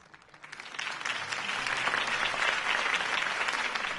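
A crowd in the Batman: The Telltale Series video game breaks into applause, rising from quiet to a dense, sustained roar of clapping that holds steady and loud to the end.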